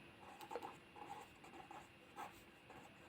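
Marker or chalk writing a mean formula on a board during a Hindi maths lesson, a quiet series of short scratchy strokes in bursts, faint and close, with no talk.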